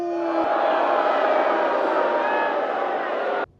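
An arena crowd booing at an opponent's name, a dense, sustained roar of many voices at loud, even intensity that ends abruptly after a few seconds.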